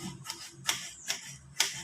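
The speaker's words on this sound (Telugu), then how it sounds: "టమాటా ఉల్లిపాయ పచ్చిమిరపకాయ కోస్తున్నాను అనమాట" Knife chopping tomato, onion and green chilli on a cutting board: four sharp, evenly spaced thuds at an unhurried pace, with nothing else prominent.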